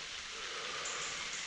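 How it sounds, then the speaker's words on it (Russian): Steady rain falling on a wet forest, a soft continuous hiss of drops on leaves and ground with no pauses, fairly close and even throughout. "И тут же пошел дождь."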